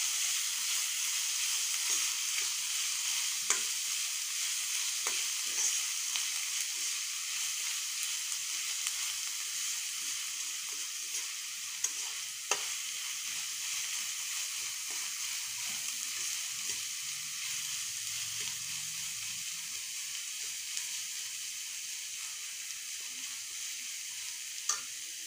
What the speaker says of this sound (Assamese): এয়া পিঁয়াজখিনি আধা ভজা হৈ গৈছে।